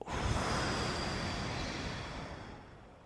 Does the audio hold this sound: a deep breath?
yes